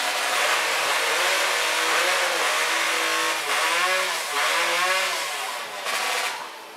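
A small high-pitched chainsaw engine revs hard at a timbersports competition, its pitch climbing and falling in repeated whining surges, loud and close, with no talking.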